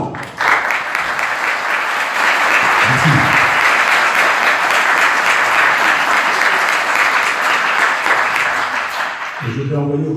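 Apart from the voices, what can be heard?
audience applauding artists and orchestra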